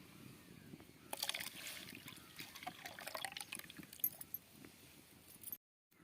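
Rice paste mixed with water is poured into a pan on a stove for Odia dahi soup, a soft, uneven liquid splashing and dribbling that stops abruptly near the end.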